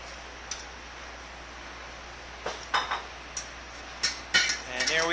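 Light clinks and scrapes of utensils against a dish as chicken vodka pasta is plated, a few scattered taps building to a cluster of sharper clatters at the end, close and fairly quiet.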